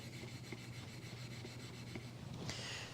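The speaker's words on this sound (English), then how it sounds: "Once you get that burr, then come in here and remove that burr." A knife blade strokes across a 1000 grit sharpening stone to remove the burr, a soft continuous rasping rub in steady repeated passes, faint and close, with no talk.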